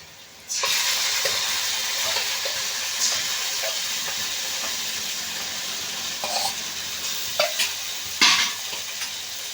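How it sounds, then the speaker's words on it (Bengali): Ground pointed gourd (patol) paste fries with spices in a pan, a loud continuous hiss starting abruptly, with intermittent scraping stirs and soft knocks throughout. "মশলার সঙ্গে বেশ ভালো করে এইভাবে কষে নেব"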